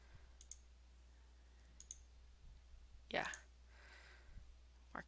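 Computer mouse clicking, a few sharp isolated clicks spread apart over a quiet background with a low steady hum.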